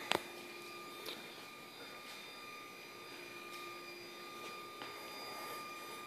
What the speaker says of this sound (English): The whine you hear are these servos. They like to cry a little bit.